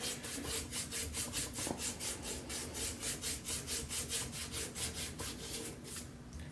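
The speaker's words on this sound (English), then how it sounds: "I'm not going to bore you guys with just hours and hours of me sanding this" Hand sanding on an antique brace gives a steady rhythm of about twenty close back-and-forth rasping strokes, evenly spaced, with no talk.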